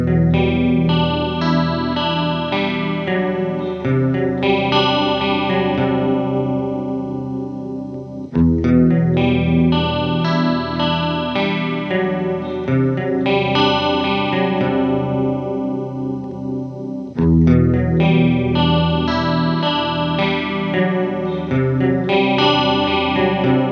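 Electric guitar played through a PitchFork detune pedal in up and down modes with the blend past halfway, giving a thick, chorused, slightly distorted wash of sustained chords in three long repeating phrases, loud and continuous with no talking.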